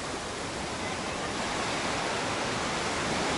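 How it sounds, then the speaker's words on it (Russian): Waves wash onto the hotel beach at Incekum in Alanya, Turkey, heard as a steady broad rush of surf with no distinct breaks and no voices. "Здесь отельный пляж."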